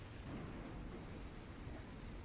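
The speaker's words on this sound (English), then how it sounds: "The rolling thunder kind of drowns it out." Low rolling thunder during a storm at sea, a steady broad rumble with a dense low-end wash, loud and continuous with no distinct claps and no voices.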